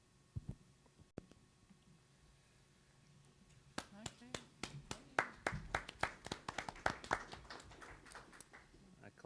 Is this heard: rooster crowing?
no